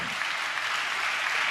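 A congregation claps together while giving praise at a church service, producing a dense, even wash of applause that holds steady for the whole short stretch with no pauses.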